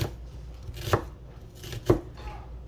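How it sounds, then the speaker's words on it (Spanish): A knife chops an onion on a board in two sharp, evenly spaced strikes, close and clear over a low room hum. "Ahora pues vamos a cortar la cebolla"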